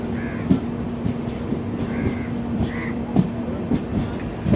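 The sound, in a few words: train arriving at Thivim station, Goa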